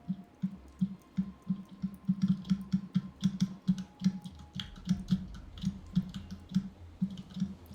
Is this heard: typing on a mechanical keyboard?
yes